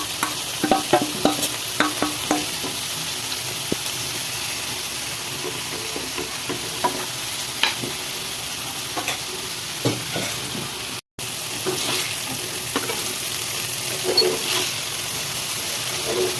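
Chilli powder and spices frying in oil for a cooker paneer biryani give a continuous close sizzle and hiss, with frequent stirring scrapes and clicks throughout and one very brief dropout, and no voices.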